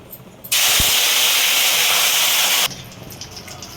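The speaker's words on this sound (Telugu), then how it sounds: "ఇప్పుడు కరివేపాకు కూడా వేయించుకోవాలండి." Curry leaves hit hot frying oil with a sudden loud, bright sizzle that holds steady for about two seconds, then drops back to a quieter background crackle.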